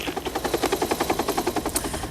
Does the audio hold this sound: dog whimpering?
no